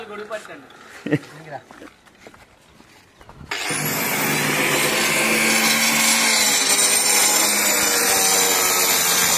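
Workers cut wood outdoors under a hot sun. Talk comes first, then a loud, steady, rough power-cutting roar starts abruptly and runs without pause to the end.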